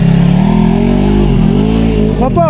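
Quad bike engine droning steadily on a hiking trail, loud and near with a rising and falling pitch as it passes, while people talk over it.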